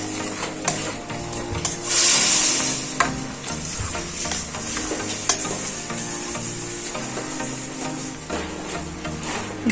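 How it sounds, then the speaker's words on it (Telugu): Cooked lentils stirred into a sizzling spice tempering for Andhra-style spinach dal (palakura pappu), with steady close frying hiss, scraping spoon strokes and a louder sizzle burst early on, no talking. "ఇప్పుడు నేను అందులోకి ఉడికించిన పప్పు కూడా యాడ్ చేస్తాను. ఇవన్నీ కలిసేట్టుగా ఒకసారి మిక్స్ చేసేసుకునేసి"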